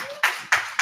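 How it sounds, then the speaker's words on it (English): Conference audience applauding after a speaker's introduction at an AI gathering, heard as three sharp bursts of clapping close together, each swelling quickly and then fading slightly before the next. "Let's give a big round of applause to Nyquist."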